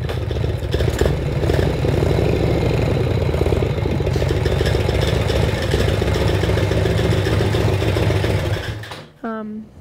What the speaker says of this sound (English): That is a pretty loud clutch, eh?